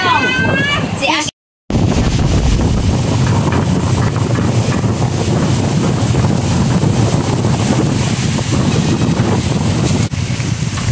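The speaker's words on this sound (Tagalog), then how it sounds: "ang lakas po ng hangin." Strong wind buffets the microphone on a boat in a loud, continuous roar with water and wave noise beneath it and one brief dropout, while a voice speaks at the very start.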